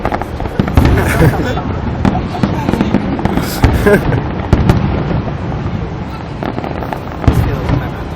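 Canada Day fireworks in Ottawa crackle and boom in a dense, continuous barrage of sharp bursts heard from a distance, with people chatting loudly over the display throughout.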